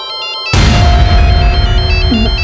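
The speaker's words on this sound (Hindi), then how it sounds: "किसका फोन आ गया?" A mobile phone ringtone plays in pulsed tonal beeps, clear and alone at first, then continues under a sudden, much louder wash of background sound.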